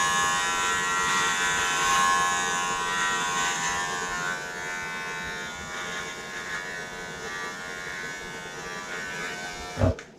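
Electric hair trimmer cutting the sideburns during a home fade haircut, giving a steady close buzz for about ten seconds that drops in tone as it presses against the hair, then stops with a short clunk near the end.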